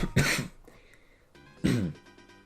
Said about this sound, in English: I just had a little cough there